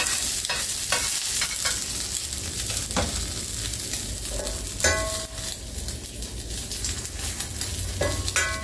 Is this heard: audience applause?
no